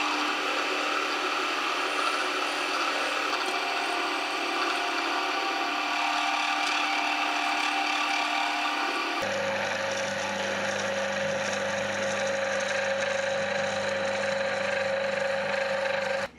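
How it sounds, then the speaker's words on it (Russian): An electric drill bores into a homemade fishing float blank, first with a small bit and then with a larger one. The motor whine runs steadily and fairly loud throughout, its pitch dropping and turning coarser partway through as the bigger bit cuts. "Сверлю постепенно, то есть сначала маленьким сверлом, затем большим"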